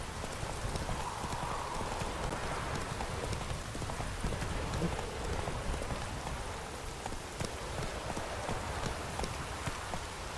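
Horse hooves clip-clop steadily in The Witcher 3 video game, a continuous rhythmic beat over a wash of rain-like ambient noise, fairly loud and close throughout.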